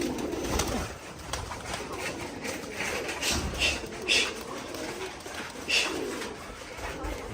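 Domestic pigeons coo repeatedly at close range, soft rounded calls recurring through a steady murmur of background noise, with no talk.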